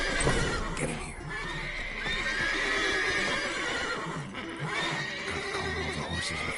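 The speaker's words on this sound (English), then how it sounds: "Gotta calm all the horses before they wake the" Several horses neighing and whinnying in a video game, a few high calls rising over a dense, noisy background of game sound and shuffling, with no clear talk.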